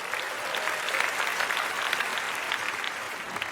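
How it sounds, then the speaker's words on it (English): A theater audience at a TED talk applauds three volunteer helpers on stage, a steady wash of dense clapping at moderate level, heard alone throughout. "Give all 3 helpers a round of applause."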